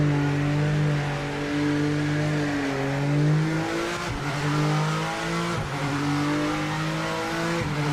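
A front-engine GT3 race car in the Project Motor Racing video game drones loudly and continuously, its engine pitch rising and falling through revs and gear changes, with no voices over it.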